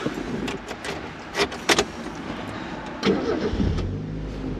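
A 1992 Mazda Miata's 1.6-liter inline-4 being started: a brief clatter of keys and clicks, then a short crank and the engine catching into a low, steady idle, close by.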